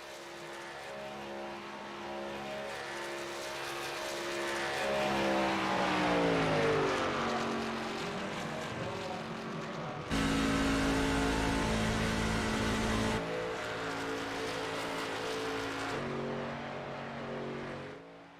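Race cars, including the number 17 DeWalt Chevrolet, lap a superspeedway with a continuous loud engine drone whose pitch sweeps downward as cars pass, then holds steady at high revs.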